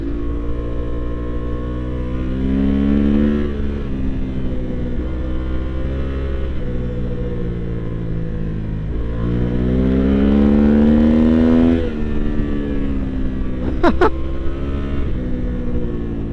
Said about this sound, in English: What a phenomenal engine.